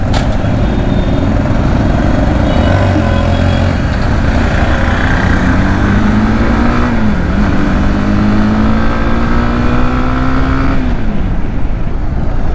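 A Honda CB Hornet motorcycle engine hums steadily and loudly while riding along a road, its pitch rising gradually and then dropping near the end, with no voices.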